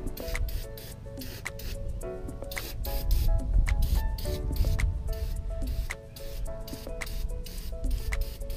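Cleaner sprayed onto car paint in short repeated hissing bursts, fairly close, with occasional wiping and handling noises between them and music playing underneath.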